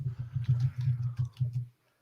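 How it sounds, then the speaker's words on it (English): Rapid, forceful clatter of keys being struck on a computer keyboard, a dense burst of clicks for about a second and a half, close and loud, then stopping abruptly. "I'm gonna Google it loudly on my keyboard"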